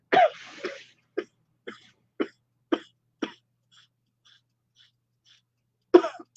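A man in a deep-breathing kundalini class demonstrates coughing: a strong opening cough followed by five short, evenly spaced coughs, a few faint breaths, then one more forceful cough near the end, close and loud with no talk.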